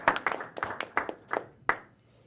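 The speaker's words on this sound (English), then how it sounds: "a round of applause for everybody" A few people clap in a brief, sparse round of applause at a board of education meeting, the individual claps distinct and fading out after about two seconds.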